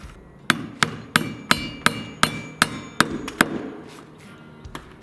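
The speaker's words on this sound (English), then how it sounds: "So much easier nailing by standing up top." A hammer drives nails into wooden floor joists with about ten loud, evenly spaced blows and a short ringing tail after each. A couple of lighter taps follow, and no one speaks.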